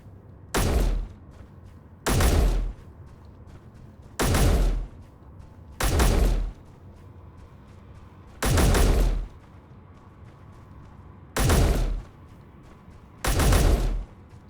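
Seven evenly spaced bursts of gunfire from the space survival game Space Engineers, each a short rattling volley with a sharp onset, separated by quiet gaps of about a second and a half.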